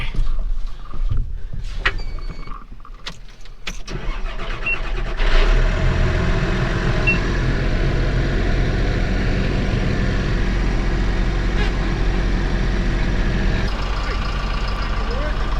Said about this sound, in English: I gotta wait for the tractor to move and the GPS to boot up.